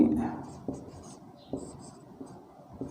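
Writing on a board during a Hindi history lesson, heard as a series of short scratchy strokes at irregular intervals while someone talks over them.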